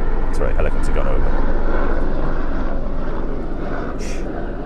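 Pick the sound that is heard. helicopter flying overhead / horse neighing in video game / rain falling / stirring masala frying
helicopter flying overhead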